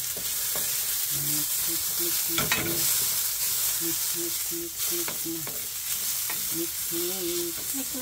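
Garlic sizzles in hot oil in a pan while being stirred, a continuous frying hiss broken by scraping knocks of the spatula and some brief tonal clatter from utensils.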